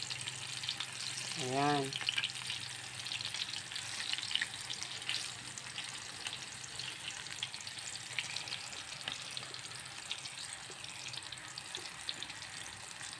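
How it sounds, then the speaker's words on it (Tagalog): Eggplant (talong) frying in a pan, a steady close crackling sizzle throughout, with one short word spoken early on over a brief rising tonal squeak. "Fried talong."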